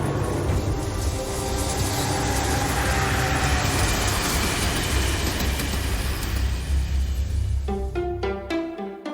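A train on the Bergen Railway in Norway rumbles loudly and continuously, with a broad roar of wheels on track and a few sharp metallic clanks near the end.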